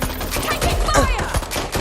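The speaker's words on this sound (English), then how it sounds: "Taking fire." Rapid gunfire in the Watch Dogs: Legion video game, dense overlapping shots and bursts, loud and continuous, with voices calling out mixed in.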